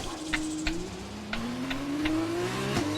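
An F2 race car spinning round on a track in a racing video game, the engine droning and shifting pitch steadily with several sharp clicks or scrapes punctuating the whine.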